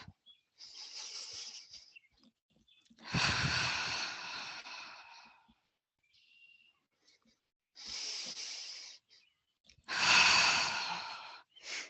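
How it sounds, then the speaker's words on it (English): Slow, steady breaths: long airy inhales and exhales in separate bursts with quiet pauses between, close and clear, no talking. "We are breathing in through the nose and out through the mouth."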